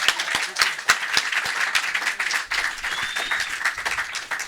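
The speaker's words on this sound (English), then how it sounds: "Let's give it up for one more time for this one" A live concert audience applauding steadily, dense clapping that carries on for several seconds at a lively, even level.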